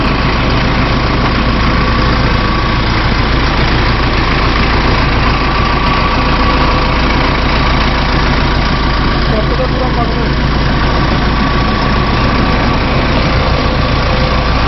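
A large vehicle's engine idles close by in a loud, constant low rumble that never changes.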